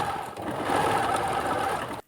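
A sewing machine runs steadily and close up, stitching binding onto a bralet with a dense, continuous whir for about two seconds before it stops abruptly.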